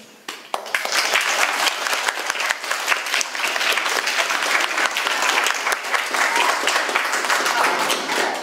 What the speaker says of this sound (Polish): o oklaski prosimy.